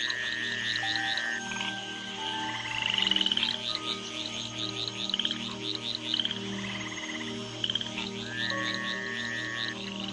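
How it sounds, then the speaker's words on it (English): A chorus of tree frogs gathered after rains croaks steadily, with layered trilling calls and sustained droning tones repeating over ten seconds, loud and close. "the tree frogs gather for bouts of communal coupling"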